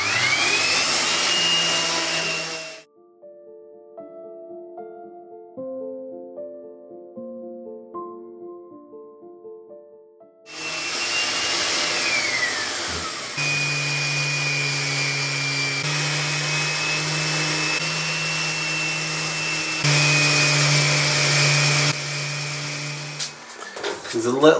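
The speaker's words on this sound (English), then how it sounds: "So this is 240 grit sandpaper on a lowish speed." A power sander with 240 grit sandpaper runs at low speed on a wooden desk, giving a loud whirring drone that stops for a musical interlude and then resumes, steady and close.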